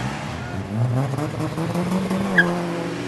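A cartoon race car engine revs at the start of a race, a steady rising drone with a brief squeal, moderately loud and blended under a faint background of voices.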